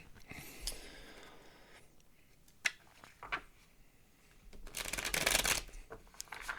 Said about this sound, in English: I'm going to pull a card and roll some dice.